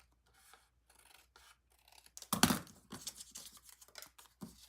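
A craft blade cuts and trims folded envelope paper up close, faint scraping strokes followed by a louder burst of crisp slicing and rustling, with no talk.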